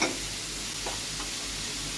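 Fish and green chillies added with a little water to fried spice paste in a pan produce a steady, soft sizzle and gentle bubbling, quiet and continuous, with no talking.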